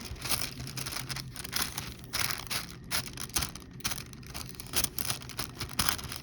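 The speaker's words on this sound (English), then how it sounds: "This paper is Inshu Gampi. It is very noisy." Crisp Inshu Gampi handmade washi paper crinkles and crunches in uneven bursts as a sheet is handled up close, rustling continuously without any voices.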